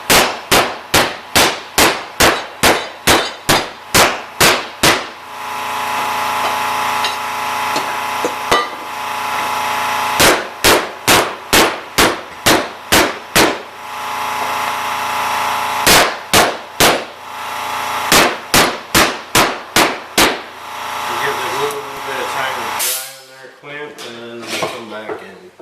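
A wood block is struck repeatedly against a glued flag build, giving sharp, loud wooden smacks in quick bursts of about eight to ten, separated by pauses with a steady background hum.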